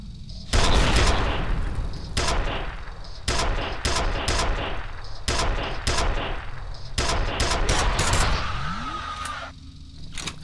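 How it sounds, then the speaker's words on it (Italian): Heavy weapon fire from a super cannon in a video game: loud, sharp booming shots in an irregular rapid series, each with a short echoing tail, then a rising mechanical whine near the end. "Sfortunatamente abbiamo quasi esaurito i colpi per il fucile principale."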